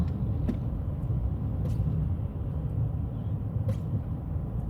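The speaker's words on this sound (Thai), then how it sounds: "มอเตอร์ไซค์เยอะเลย" Night motorcycle and car traffic at Sanam Luang in Bangkok, heard as a steady, dense low rumble of passing engines with no voices.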